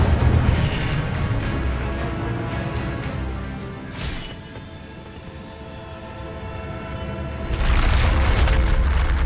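Incendio fire spell explosions roar in Hogwarts Legacy: a heavy, rumbling blast that dips into a quieter crackling lull midway, then swells again into another loud, booming burst near the end.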